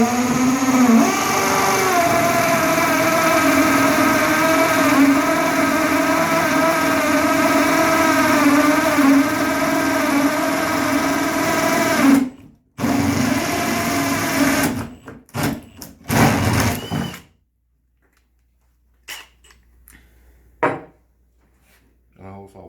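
Drill with a Forstner bit boring a hole in wood for a birdhouse, a loud continuous grinding whir close by that stops and restarts in short bursts before quiet handling noises.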